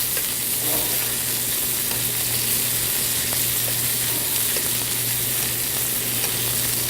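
Steak is butter-basted in a hot pan, producing a loud, dense, unbroken sizzle and spatter throughout.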